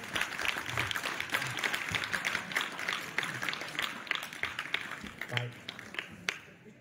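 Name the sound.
audience applauding the players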